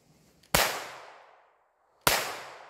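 Two sharp gunshots from a Taurus TX22 .22 pistol ring out about a second and a half apart, each loud close crack trailing off in a brief echo.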